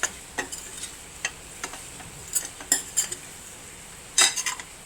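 A utensil scrapes and clinks against a pan in scattered, uneven strokes while stirring fried anchovies for pickle, close and fairly crisp, with no talking.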